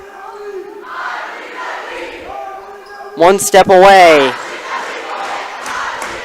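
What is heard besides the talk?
volleyball game crowd cheering and getting riled up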